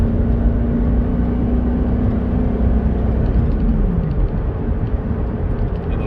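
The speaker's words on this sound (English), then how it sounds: "it's such a fun car to drive." Yellow Lamborghini engine while driving: a steady, loud low drone with a held engine tone that dips partway through, continuous road rumble from inside the car.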